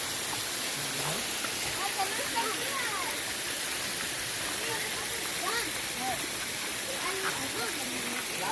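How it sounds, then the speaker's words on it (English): Constant broadband roar of a waterfall over 100 feet high at Bonita Falls in Lytle Creek, California, filling the scene, with people talking faintly over it. "It's over 100-foot waterfall."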